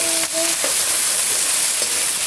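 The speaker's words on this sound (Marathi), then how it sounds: "कांदा लालसर होसपर्यंत परतून घ्यायचं" Sliced onions frying until reddish brown for a chicken gravy cooked on a wood-fired clay stove, a dense steady sizzle close by with a couple of light stirring knocks, no talking.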